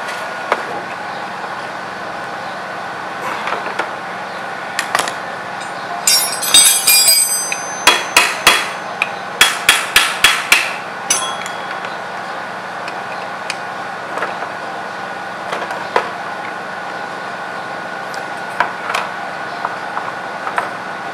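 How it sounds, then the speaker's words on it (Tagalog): Hammer blows on stuck bolts of a Yamaha FZ motorcycle carburetor, sharp metallic strikes in quick clusters of several hits, loud and close, with sparser taps before and after. "Kailangan natin siya pukpukin para ma-shock."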